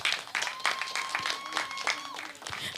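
Audience applause for a secondary school team at a STEM challenge competition, a short burst of scattered clapping, fairly quiet, with a voice speaking over it.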